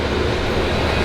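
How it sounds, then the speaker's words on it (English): A passing train makes a loud, steady rumble that fills the whole moment without a break, with no voices over it. "Dude, this damn train,"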